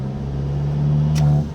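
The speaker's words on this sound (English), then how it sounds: "There is a much more aggressive tone in the exhaust when I let off" A BMW 1 Series fitted with a hybrid turbo and downpipe holds a steady, close exhaust drone, then gives a brief whooshing whoop as the throttle is released.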